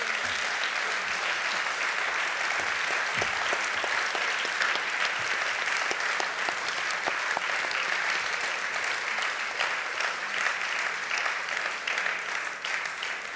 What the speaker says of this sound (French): Et on peut encore chaleureusement les applaudir.